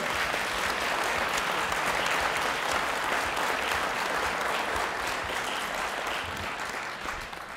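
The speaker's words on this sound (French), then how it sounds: "Sous vos applaudissements." Audience applause at a French debating competition, the Coupe de France de Débat, a steady dense wash of many hands clapping that holds strong and even throughout, easing slightly toward the end, with no voices on top.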